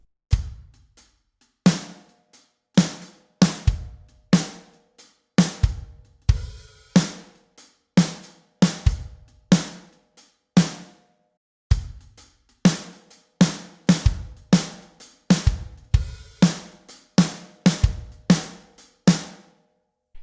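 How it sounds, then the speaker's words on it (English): Full drum kit playing a halftime shuffle groove, steady loud kick, snare and cymbal hits in a swung rhythm across several bars, with no talking. "The whole last part of the song is a halftime shuffle."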